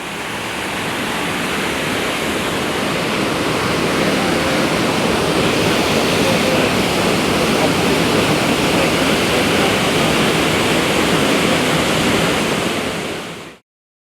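A waterfall roars in a broad, unbroken rush of falling water, loud and close. The sound holds steady for the whole stretch, then cuts off abruptly.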